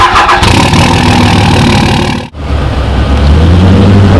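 A Dodge Challenger 392 Scat Pack fires up: a loud cranking burst, a brief dip, then a deep, rumbling V8 idle that holds steady close by.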